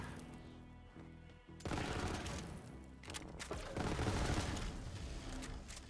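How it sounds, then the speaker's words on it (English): Rapid gunfire from a bullet-spraying weapon in Borderlands 3, a dense, continuous burst of shots with booming impacts filling the clip after a quieter opening. "that actually sprays out a lot of bullets"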